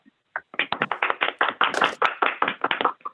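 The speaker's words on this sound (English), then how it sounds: "if you would all join me in a round of applause to congratulate those 4 young women" A round of applause at a township board of education meeting: a short burst of quick, fairly close claps from a few people, starting abruptly and fading after about three seconds.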